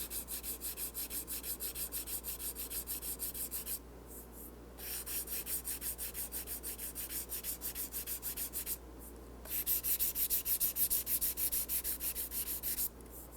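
Fine 800 grit sandpaper, wrapped around fingers, rubs across a repaired guitar finish in steady back-and-forth swipes, quiet and close, with a few short breaks between passes.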